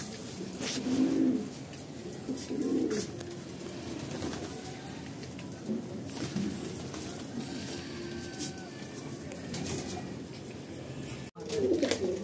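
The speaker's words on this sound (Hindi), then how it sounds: "और ये कबूतर ये देखिए, ये आ गया ऊपर वाला पट्टा है" Pigeons coo near their nest on a rooftop ledge among household plants, with soft repeated coos in several bursts over steady background hum and faint outdoor noise.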